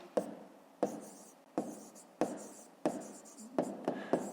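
A pen scratches across paper in a series of short strokes, about seven evenly spaced scribbling bursts, close and quiet with no talking.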